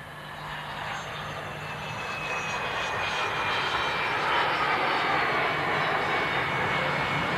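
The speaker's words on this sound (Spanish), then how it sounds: "Veamos ahora su primer vuelo en una vieja película cedida por Dassault Aviación." A Dassault Rafale jet roars through its first flight on old archival film, a loud continuous engine rush that builds gradually and holds steady throughout.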